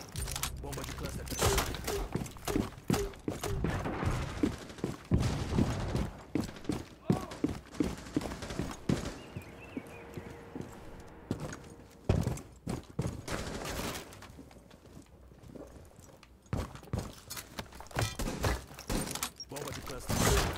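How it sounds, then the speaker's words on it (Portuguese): Cluster charge explosions in Rainbow Six Siege, a rapid series of sharp bangs and cracks in irregular bursts, with people talking throughout. "Bomba de cluster."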